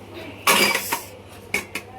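A metal pot of dum biryani is handled up close, giving one sharp clank followed by a few lighter knocks and scrapes against utensils, with faint voices in the background.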